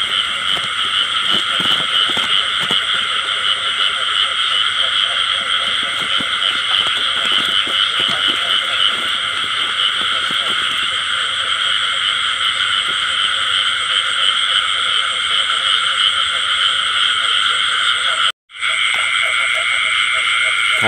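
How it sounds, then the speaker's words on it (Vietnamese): Field frogs croak in a dense, loud, continuous chorus that never pauses, apart from one momentary cut near the end. "Thấy con còn ếch nữa cả nhà."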